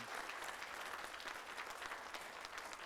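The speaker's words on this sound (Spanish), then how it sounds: "Fuerte el aplauso para el Señor." Church congregation at an evening service applauds the Lord, a faint, distant wash of continuous clapping at an even level, with no talk over it.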